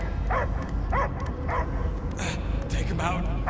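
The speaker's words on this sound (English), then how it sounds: "I hear only barking." A dog barks repeatedly in sharp, evenly spaced yaps about every half second. The barks are close and clear over a low background rumble.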